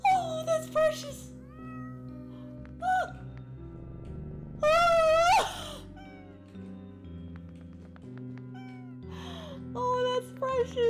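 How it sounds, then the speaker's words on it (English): Cartoonish cats meow in the video game OneShot, several rising and wavering mews that come in short separate bursts over soft background music, with a voice talking faintly between them. "Oh, a cat."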